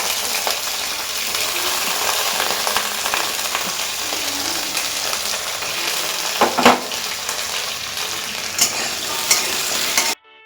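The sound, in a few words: radish and beans frying in oil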